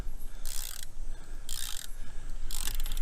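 Spring compressor being turned on a Chevy Impala strut, giving three regular bursts of bright ratcheting clicks about a second apart, close and fairly loud with no talking.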